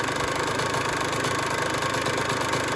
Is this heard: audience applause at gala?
no